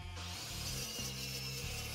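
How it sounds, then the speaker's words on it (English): A power tool cutting steel framing for a homemade CNC plasma table, a steady loud grinding whine with shifting pitch as the blade works through the metal, with no talk. "Next thing I cut out is all the framing."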